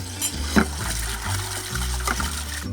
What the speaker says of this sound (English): you wash the papaya in the pan